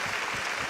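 Applause from a studio audience for Dr Vivek Bindra and Bada Business, a brief burst of dense, steady clapping with no voices over it.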